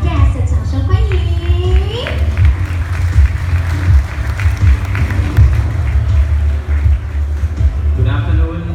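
Guests at a Porsche showroom and service centre opening in New Taipei applaud continuously for several seconds, the dense clapping sitting close over a steady low musical bed.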